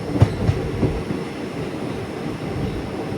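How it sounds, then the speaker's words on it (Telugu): A train pulls into Tirunelveli Junction after rain, its steady low rumble broken early on by a few loud clanks and wheel knocks, then settling into an even rolling drone with no voices. "ట్రైన్ అయితే తిరునెల్వేలి జంక్షన్కి అయితే వచ్చేసింది"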